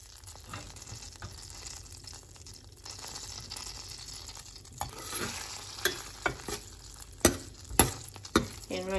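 Pieces of ginger sizzling in hot oil as seasoning for a Gujarati spinach kadhi, a steady soft fry punctuated by a few sharper clinks and scrapes of stirring toward the end.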